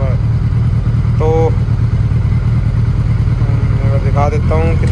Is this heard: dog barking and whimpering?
no